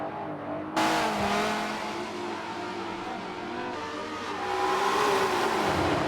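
A Dodge Viper race car in a racing video game holds a steady engine drone that climbs in pitch toward the end, with a sharp onset and no voices.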